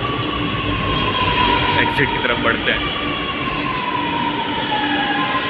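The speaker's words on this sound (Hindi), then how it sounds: "रिकॉर्डिंग करते टाइम मेट्रो की आवाज़ बहुत ज़्यादा आती है।" Metro train noise inside a metro station, a loud continuous rumble with a faint rising wheel whine, while someone talks over it close by.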